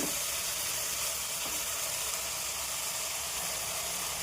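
Onions sizzle and fry steadily in a hot pan for tamarind rice, a dense continuous hiss holding at even loudness throughout with no voices over it.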